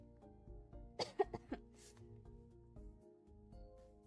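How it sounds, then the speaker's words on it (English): A lingering cough from someone recovering from illness: a short cluster of three or four close, sharp coughs over a faint background hum, with no talk. "I'm still coughing a lot, but my cough is getting better"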